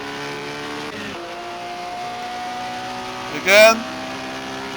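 A 1950s Formula 1 race car engine in a racing video game drones steadily in a low gear, then rises in a brief revving surge, while someone talks over it.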